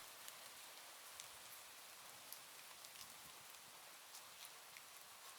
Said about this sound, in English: In the background, you will hear soft rain and thunder to help you relax